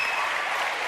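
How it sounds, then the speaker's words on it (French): A French television studio audience applauds with a short, dense burst of clapping that carries evenly throughout, with no voices over it. "applaudissements extrêmement chaleureux"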